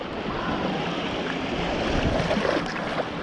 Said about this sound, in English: waves are rolling in a little bit.